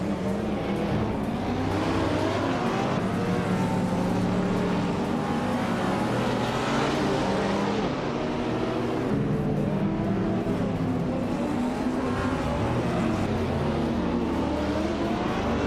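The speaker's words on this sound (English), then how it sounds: "Aussie 22 is driving a 2009 Lexus ISF, known for its V8 engine and sporty handling" Race car engines in a racing video game, including a 2009 Lexus ISF V8, drone and rev continuously with shifting pitch as cars accelerate and pass, a dense steady roar throughout.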